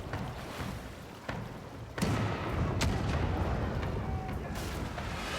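Gunfire in the fantasy game Pillars of Eternity II: Deadfire, with a sharp report about two seconds in that rolls into a sustained, booming battle din of shots and impacts.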